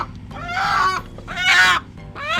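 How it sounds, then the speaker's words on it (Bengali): Chicken clucking in bursts, three harmonic squawking calls close and fairly loud over a steady low background hum, fitting a domestic hen. "এটা তো তোমার মুরগি"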